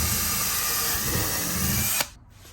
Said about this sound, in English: the drilling is really simple.